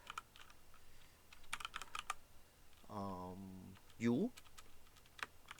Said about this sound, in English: we can simply press the S on the keyboard and left click the mouse